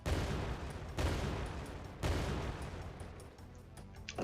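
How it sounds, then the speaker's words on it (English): Cannonballs fire in a video game, three heavy booming blasts at roughly one-second intervals, each decaying into a rumbling tail, followed by softer clicks. "So if I press left trigger, I shoot a cannonball forwards."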